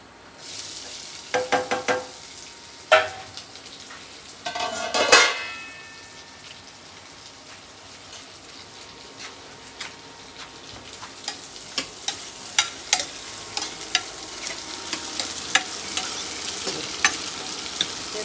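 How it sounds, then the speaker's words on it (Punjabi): Hot oil tempering for a pumpkin curry sizzles and crackles loudly as spices hit the pan, with sharp bursts near the start and a steady frying hiss afterward, close by and with no talking. "ਤੜਕਾ ਲਾਉਣਾ ਕੱਦੂ ਦੀ ਸਬਜ਼ੀ"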